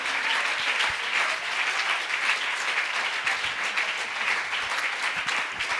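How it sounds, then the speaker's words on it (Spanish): Sustained applause from a church congregation during a worship service, steady and dense throughout, with no speech over it. "Dele ese aplauso al Señor en esta hora."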